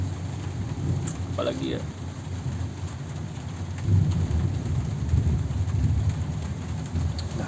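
Steady rain falls with a low rumble of thunder swelling partway through, a constant hiss of drops on surfaces; a person speaks briefly over it.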